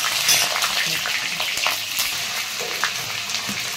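Green and dried chillies sizzle and crackle in hot oil in a pan with whole onion, for a mung dal pulao, a steady close frying hiss with occasional stirring clicks throughout, and no talking.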